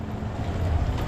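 A boat motor runs steadily with a low, rumbling drone mixed with wind noise and water wash, close and continuous throughout.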